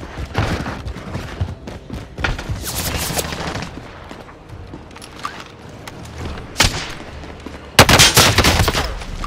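Gunfire in Call of Duty: Warzone, with irregular bursts and broadband shot cracks rising over a steady game backdrop; the loudest volley comes near the end, along with a few thuds.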